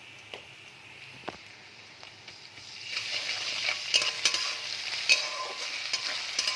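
Ginger garlic paste hitting hot oil in a pan while cooking hilsa fish head, starting quietly and swelling into a steady, close sizzle with light stirring scrapes.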